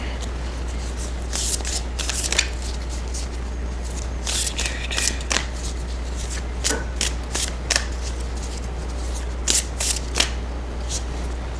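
Healing Mantra Oracle cards being shuffled by hand, repeated riffling bursts and soft flicks close up over a steady low hum, with no talking.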